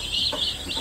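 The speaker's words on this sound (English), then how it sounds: "So they sent me 108 baby chicks." Baby chicks peeping in a brooder, a steady mass of high, overlapping cheeps with a few louder chirps standing out, close and continuous with no talk.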